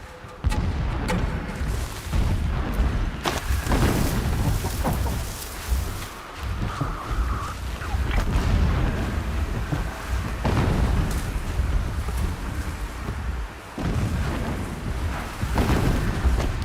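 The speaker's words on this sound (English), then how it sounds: "Explosions in the distance." Distant explosions in the video game Horizon Zero Dawn, deep muffled booms rolling repeatedly under a steady roaring background for around seventeen seconds, with no speech.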